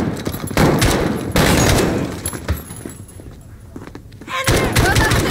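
Gunfire in Call of Duty Modern Warfare (2019) during an ambush on returning guards: loud, dense bursts of shots in clusters with a quieter lull before firing resumes, while voices talk over it.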